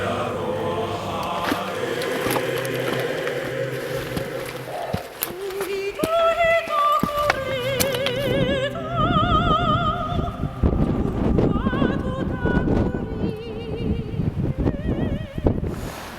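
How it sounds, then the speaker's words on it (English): Gusts of strong wind batter the microphone on an exposed coastal ridge at sunrise during a solo tramp in New Zealand's Coromandel, a continuous loud rumbling buffet that swells and surges throughout, with no clear speech. "It's so windy."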